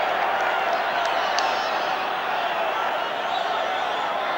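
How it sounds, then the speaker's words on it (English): Hull supporters in a big rugby league crowd at the Boulevard for Hull FC against Australia in 1982, a constant loud roar of cheering with scattered whistles. "A big crowd here then at the Boulevard, and Hull's supporters in very good voice"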